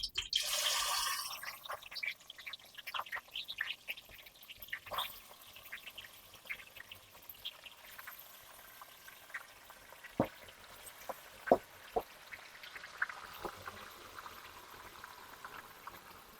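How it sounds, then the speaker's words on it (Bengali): Chicken dropped into hot oil for a home-style meat dish, a loud initial hiss that settles into steady soft bubbling and scattered sharp crackles and pops, fairly quiet overall with no talking. "তেলটা গরম হয়ে গেছে, এবার চিকেন দিচ্ছি।"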